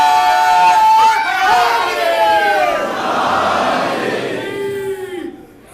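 A majlis crowd at a Muharram gathering chants the Nara-e-Haidari slogan, loud and close. Voices rise together in long rolling shouts, then tail off near the end.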